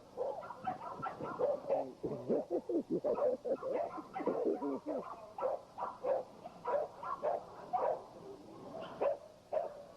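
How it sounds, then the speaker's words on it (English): Several dogs bark in rapid, overlapping bursts at a farm in Pennsylvania, a moderately distant chorus of woofs and yips that keeps going throughout. "These are dogs at the farm in Pennsylvania."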